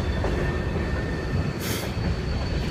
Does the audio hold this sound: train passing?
yes